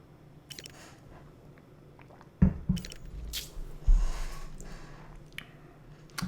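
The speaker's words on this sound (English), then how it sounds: "Excuse me while I take a sip of water." A person takes a sip of water, making a few close, wet slurping and swallowing sounds against quiet background noise, with no talking.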